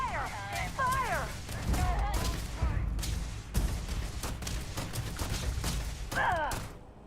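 Gunfire in the Starfield video game, a dense fusillade of weapon bursts and booms running throughout, loud and continuous, with excited voices shouting over it.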